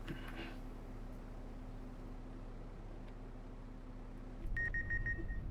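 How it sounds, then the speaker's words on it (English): A farm machine handling grain gives a run of short, bright electronic beeps near the end, above a steady low engine drone that hums throughout. "Why are you beeping at me?"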